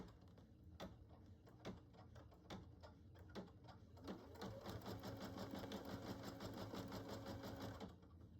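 A sewing machine stitches an in-the-hoop embroidery stuffed bear: a few separate needle thumps at first, then a steady, fast, even run of close mechanical stitching that continues to the end.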